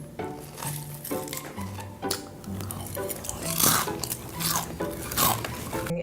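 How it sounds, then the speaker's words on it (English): Loud, close chewing and crunching with wet smacking bites repeating irregularly across several seconds, along with scraping, clinking noises and no talking. "could you chew any louder?"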